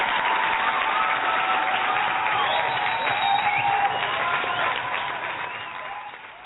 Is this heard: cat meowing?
no